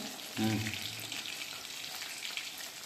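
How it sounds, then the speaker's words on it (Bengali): Continuous bubbling sizzle of chicken deep frying in oil, with a brief voice near the start and faint background noise. "চিকেনগুলো ভাজা হয়ে গেছে প্রায় না?"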